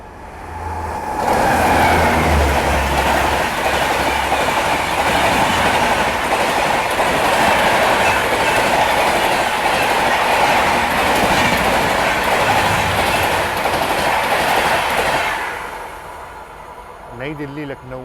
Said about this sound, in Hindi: और सामने की तरफ से नई दिल्ली लखनऊ स्वर्ण शताब्दी एक्सप्रेस जो वो आ रही है।